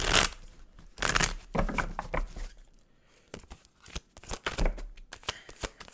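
Tarot cards being shuffled give quick, papery riffling bursts in irregular clusters, close and fairly loud, with brief pauses between shuffles.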